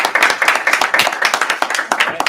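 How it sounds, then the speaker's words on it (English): A meetup audience claps after a talk, with quick irregular hand claps from a modest crowd, fairly close and lively throughout. "a round of applause for Dr."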